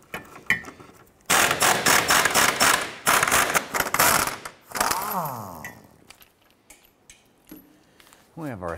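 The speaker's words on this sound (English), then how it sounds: "let's go ahead and get to these bolts using a 15 millimeter socket and our impact gun" An impact gun fitted with a 15 mm socket rattles off bolts on a 2006-2013 Chevrolet Impala rear trailing arm, loud close bursts of hammering buzz in several runs with brief pauses between them.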